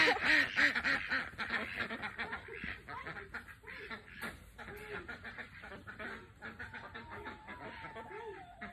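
A noisy flock of farm ducks at a string bean field, quacking in rapid overlapping bursts, close and fairly loud, with no talking.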